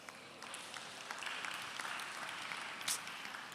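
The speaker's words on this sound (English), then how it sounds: "Stop clapping, I'm shy." Moderate applause from a conference audience in a large hall, a soft, steady patter of many hands that builds slightly and then holds.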